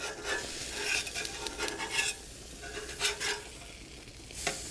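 Swordfish is flipped on a hot grill: soft sizzling with short bursts of scraping and brushing as the fish is turned, fairly quiet and close, with no voices.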